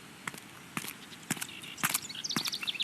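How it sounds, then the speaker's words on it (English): Footsteps approaching outdoors at first light near a hidden shelter on the moor, a few uneven steps growing closer, with birdsong chirping in the background toward the end. "Footsteps."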